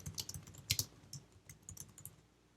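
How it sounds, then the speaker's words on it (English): Fingers type on a computer keyboard with quick, light clicks in short uneven bursts and a few sharper louder strokes, close by and quiet, with no voices. "And now I've got a text box, and I can type in whatever I want here"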